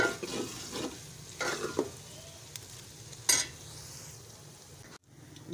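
Okra frying in a pan, a steady sizzle with intermittent scraping stirs of a utensil against the metal, fairly close, with no talk.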